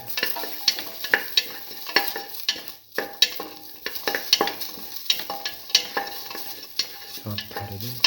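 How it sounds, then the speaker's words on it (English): A tamarind piece drops into a frying pan and gets stirred, with repeated sharp scrapes of a spatula against the pan over a continuous sizzle, close and fairly loud, no voices. "Now put in the tamarind piece."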